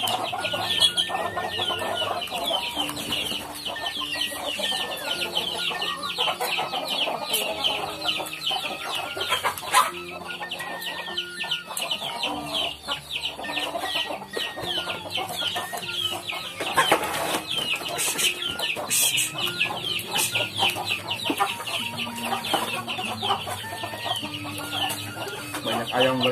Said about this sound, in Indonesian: Banyak ayam Bre di sini.